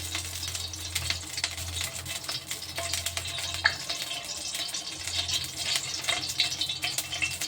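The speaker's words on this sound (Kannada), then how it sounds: "ಇವಾಗ ಈ ಕಡಾಯಿದಾಗ ತುಪ್ಪ ಹಾಕೋತೀನಿ ರೀ" Ghee heating in a kadai over a low gas flame, giving a steady, faint, close sizzle with soft crackles throughout and no talking.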